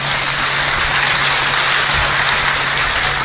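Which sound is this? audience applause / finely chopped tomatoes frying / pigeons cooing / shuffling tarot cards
audience applause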